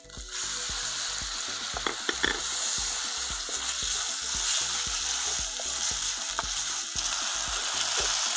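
Tomatoes hit a pan of frying ginger garlic paste for mutton sukka, giving a continuous close sizzle broken by irregular scraping stirs and soft clicks of a spoon against the pan.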